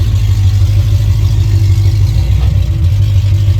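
A Hurst Olds Cutlass G-body with a 383 V8 and non-roller rockers idles steadily outdoors in the cold, a loud, continuous low rumble with no voices over it.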